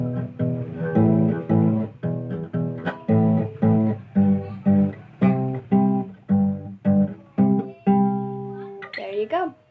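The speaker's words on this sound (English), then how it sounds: "That is your power chords." Guitar strumming power chords in a beginner lesson, a steady series of loud chugging strums with brief pauses, ending in a short sliding flourish, no speech.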